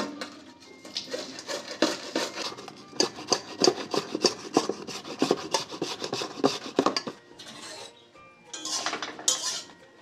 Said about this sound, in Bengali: এবার আমি বিটটা গ্রেট করে নেব।